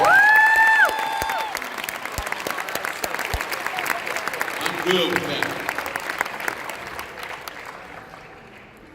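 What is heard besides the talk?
audience applause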